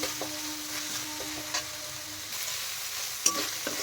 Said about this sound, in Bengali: আমি যেহেতু ফ্রেশ চিংড়ি মাছ সেই জন্য মশলার সাথে ভেজে নিচ্ছি